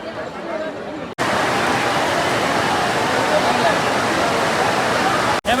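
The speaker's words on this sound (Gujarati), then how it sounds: "જોઈ વરસાદ આવી ગયો છે ધોમ ધોકા જતા વરસાદ" Heavy rain pours down in a dense, steady roar of falling water that starts abruptly and fills the scene, with voices faintly present underneath.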